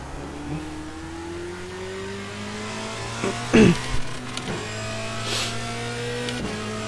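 A race car engine in a sim racing game during a timed lap, a steady droning engine note with shifting pitch as it accelerates, plus a brief louder burst midway.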